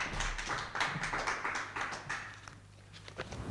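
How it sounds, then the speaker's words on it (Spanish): A lone speaker claps for themselves at the close of a lecture, a short burst of quick, close claps that fades into room ambience. "Me aplaudo."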